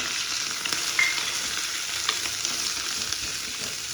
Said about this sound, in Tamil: வெங்காயம் போட்டு நல்லா வதக்கி விடு.